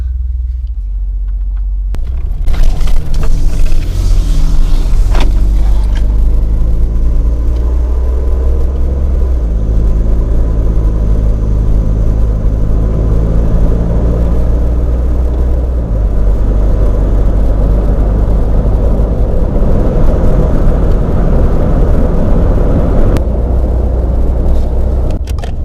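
A twin-turbo V6 truck fitted with a budget exhaust upgrade idles with a deep, steady low rumble, loud and close, holding an even drone with slight shifts in tone and no talking.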